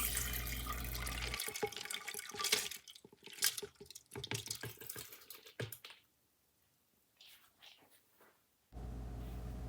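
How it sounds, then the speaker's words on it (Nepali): Two cups of cold water pour into an Instant Pot holding washed red lentils. A rushing splash runs, then breaks into irregular clicks and trickles, goes almost silent, and the flowing rush returns briefly at the end. "मैले 2 कप चिसो पानी हालेँ।"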